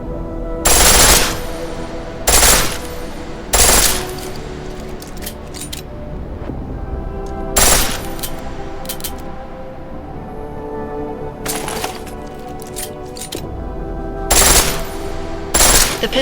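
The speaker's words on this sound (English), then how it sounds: "The pistol in full auto will take down targets fast, but it'll burn through your ammo." A pistol fires on full auto in Deus Ex: Mankind Divided, sharp rapid bursts repeating in short clusters across the stretch with quieter mechanical gaps between them, loud and close.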